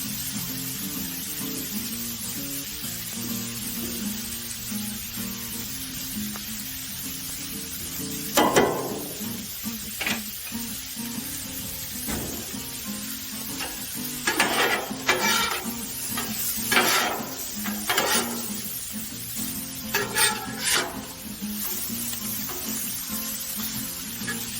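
Shrimp scampi noodles sizzle on a Blackstone griddle under a constant hiss, while a utensil repeatedly scrapes and tosses them in irregular bursts, close and fairly loud.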